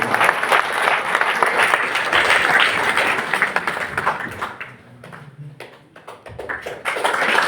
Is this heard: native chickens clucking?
no